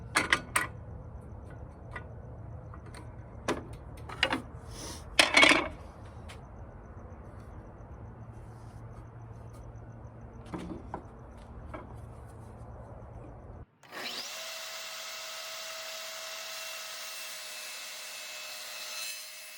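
Shaving strokes scrape along the wood edge of a piece of outdoor furniture, with irregular rasping passes and a few sharp knocks, then a steady, brighter mechanical whir takes over near the end.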